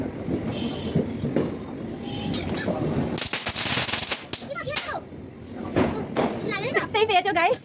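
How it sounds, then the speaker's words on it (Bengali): Firecrackers set off on a Kali Puja night, with a cluster of sharp, loud cracks and a crackling burst followed by scattered pops, while people talk and call out nearby. "বাজি ফাটাচ্ছি একাই আমি"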